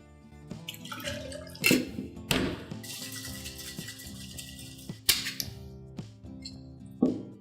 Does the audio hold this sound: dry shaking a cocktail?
yes